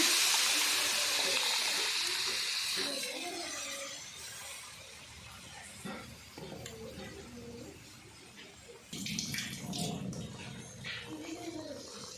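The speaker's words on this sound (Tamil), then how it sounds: "மீன் குழம்புக்கு தேவையான அளவுக்கு புளிக்கரசல் சேர்த்துக்கலாம்" Tamarind extract pouring into a pan of fish curry, a soft liquid gush and trickle at moderate loudness that tapers off, followed by faint kitchen clatter and brief stirring-like noises.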